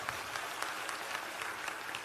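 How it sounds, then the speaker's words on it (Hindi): Audience applause at a religious discourse gathering, a steady dense patter of clapping hands that is fairly faint and distant, carrying on evenly for about two seconds with no talk over it. "पहले नंबर तो इन्हें ताली बजा के धन्यवाद दो।"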